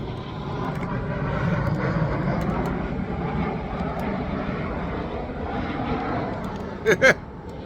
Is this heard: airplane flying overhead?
yes